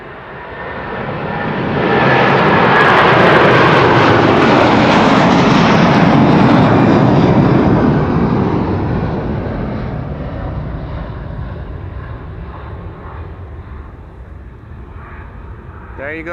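An American Airlines Boeing 777-200 twin jet at Amsterdam Schiphol roars loudly past, swelling to a broad rushing peak and slowly fading into a distant rumble, with someone talking over it.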